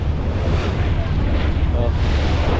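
Sea waves and strong wind buffeting the microphone aboard a boat on a sea trial, a loud, continuous rushing roar with low rumble throughout.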